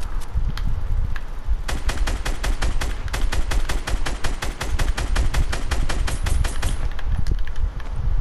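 Automatic weapon fire in Fortnite Battle Royale Season 5, a loud, steady stream of rapid shots lasting several seconds over busy game noise, with a few scattered single shots before and after the sustained burst.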